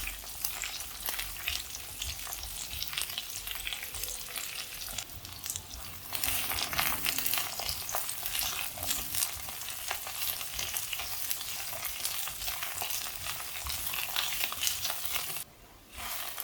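Brinjal (eggplant) pieces frying in hot oil in a pan while being stirred, a steady close sizzle with scraping stir sounds throughout, no talking.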